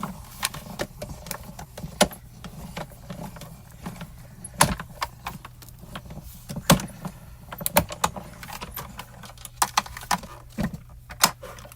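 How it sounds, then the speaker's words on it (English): A die-cutting machine rolls Spellbinders dies through with a steady low mechanical hum. Irregular clicks and clunks sound over it, close by. "we're going to roll these through and cut these"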